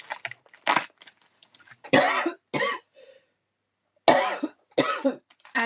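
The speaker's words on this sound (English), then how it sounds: "Excuse me, I'm about to cough again." A series of sharp coughs in short bursts, close and loud, with brief pauses of silence between them.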